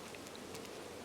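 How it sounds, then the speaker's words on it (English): Robbing honeybees swarm and zigzag around a farm beehive in late summer, a faint, steady insect buzz with no talking. "the robbing bees flying around in sort of zigzags and as it were hawking like hornets are supposed to do"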